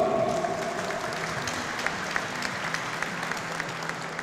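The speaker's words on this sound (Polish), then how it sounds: "brawa dla niego" An audience at a KS Powiślak Końskowola football club event claps for player Patryk Suszek, the club president's son, a soft, steady round of applause with a few sharper individual claps.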